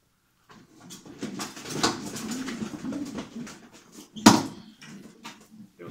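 Soft racing pigeon cooing and rustling nearby, with a brief sharp knock partway through; no speech.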